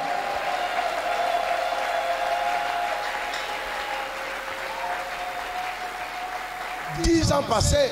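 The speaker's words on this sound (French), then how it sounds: "Je pensais que tu allais bien applaudir" Church congregation at an anniversary service applauds in a steady, continuous wash of clapping, with a sustained tone running underneath and louder voices breaking in near the end.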